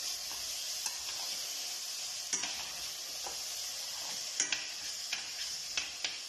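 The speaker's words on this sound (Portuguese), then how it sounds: "Vou juntar uma folha de louro e alho picado também. Saltear bem estes legumes," Vegetables sautéing in a pan with a bay leaf and chopped garlic at a market cooking demonstration, a steady soft sizzle broken by occasional light clicks of stirring utensils, fairly quiet and without talk.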